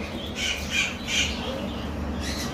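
A pair of lovebirds, a male and female, give harsh, rapid squawks in a few close bursts, loud and near, with a steady background hum and no talking.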